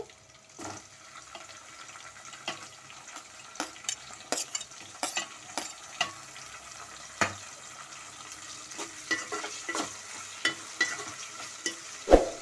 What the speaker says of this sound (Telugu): టమాటాలు వేసుకున్నాక ఒకసారి కలబెట్టుకున్నాము